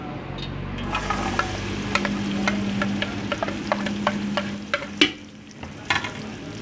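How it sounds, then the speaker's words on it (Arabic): Onion frying in oil in a pan, giving a continuous moderate sizzle with scattered clicks and scrapes of a stirring spoon, nearby and without talk. "نضع الزيت، ثم البصل"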